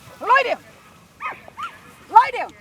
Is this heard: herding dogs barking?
yes